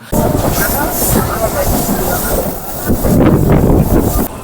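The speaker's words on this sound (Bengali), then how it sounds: "আমাদের ট্রেন প্রায় ছেচল্লিশ কিলোমিটার অতিক্রম করে এখন ঢুকছে নন্দন কুমারে" A Howrah–Digha local train rumbling along loudly and steadily, close by, with wheel clatter and wind buffeting the microphone.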